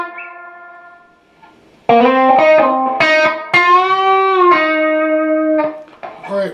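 An electric guitar plays a bridge lick through distortion and effects. A held, fading note gives way to a run of bright plucked and bent notes that ring out clearly and loudly.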